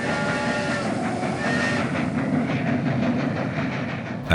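A train rolls steadily along a railway line through the Sierras Grandes of Córdoba, a continuous close rumble with rhythmic clickety-clack of wheels over rail joints and no voices.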